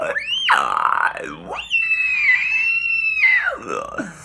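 A person screaming loudly and close, one long piercing wail that rises, dips, then holds a steady high pitch for about two seconds before sliding down, heard alone.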